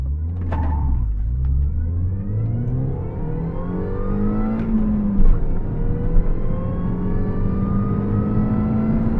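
A supercharged MINI Cooper S R53 accelerating hard from 0 to 60, its engine note climbing steadily through the gears with a brief dip at each shift, heard close from inside the car.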